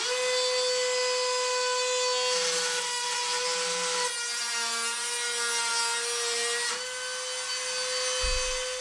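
An EdgeTune Pro II sharpening stone grinds a blade edge with a steady, sustained whirring hum and a faint rasp of stone on steel, continuous throughout and close by.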